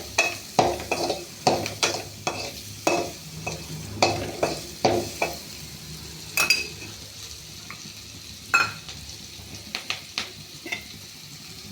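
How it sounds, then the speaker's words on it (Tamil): Onion, green chilli, turmeric and a cinnamon stick tempering in hot oil make a faint sizzle under repeated sharp spoon scrapes and taps against the pan, heard close with no voices. "மஞ்சள் பொடி, ஒரு பட்டை போட்டு தாளிச்சுக்க."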